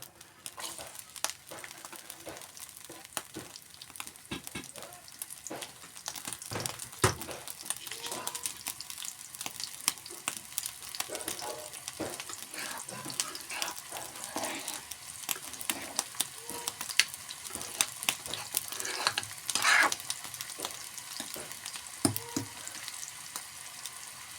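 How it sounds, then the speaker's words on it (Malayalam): Chopped shallots fry in hot oil in a pan for a drumstick and dried prawn curry, a continuous close crackle and sizzle with scattered stirring scrapes and a few sharper pops. "അതിലേക്ക് നുറുക്കി വെച്ച ചെറിയ ഉള്ളി ഇട്ടെടുക്കുക"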